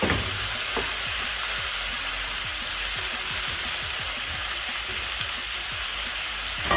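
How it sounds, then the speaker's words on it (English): Goat meat (mbuzi) pan-fries with a dense, continuous sizzle, while faint clicks and scrapes recur throughout as the pieces shift in the pan. "I decided to pan fry the meat because this is mbuzi and it will cook faster here compared to the oven"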